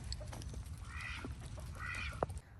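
A goose honks among a flock of ducks as two drawn-out calls, near and moderately loud, over a steady low rumble with scattered soft quacks and clucks.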